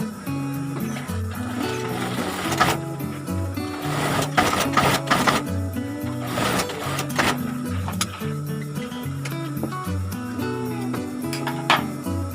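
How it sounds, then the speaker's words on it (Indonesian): A sewing machine stitches a trouser pocket lining seam with a steady, close mechanical whir and rhythmic needle clatter that runs throughout, broken by a few sharper knocks and taps, with no speech. "Lalu jahit kembali di jahitan yang tadi, jahitan awal."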